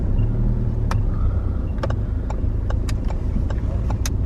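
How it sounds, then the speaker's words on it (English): A taxi passes on a road, a steady low engine rumble with broadband traffic noise throughout, joined by scattered brief high clicks and ticks. "Look at this taxi as well."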